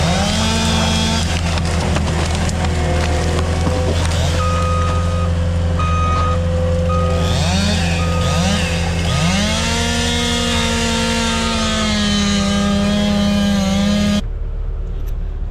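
A Cat 259 compact track loader clearing underbrush on acreage beeps steadily in reverse over its loud, droning engine, which rises and falls in pitch as it works nearby before cutting off at the end.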